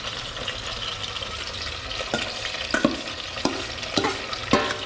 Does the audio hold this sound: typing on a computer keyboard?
no